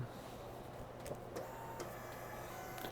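A Dymo LabelWriter 450 label printer runs a faint, steady mechanical whir while feeding out book tags, with a few light clicks over a low hum.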